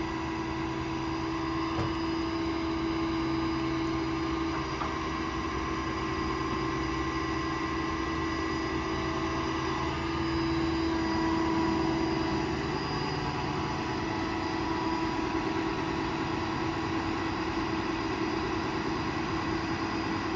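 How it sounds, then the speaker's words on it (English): A diesel Ford F550 service truck runs its IMT 7500-22 crane at full speed, giving a steady, even hydraulic and engine drone with a constant whine held throughout, no talking. "Trigger controls the speed of the crane, so you can feather it and just move the crane ever so slightly, or you can run full speed like so."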